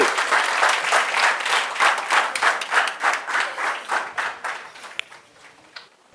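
Enthusiastic audience applause follows a live magic show at Geeta Ashram, many hands clapping loudly at first, then thinning into scattered claps and fading out near the end.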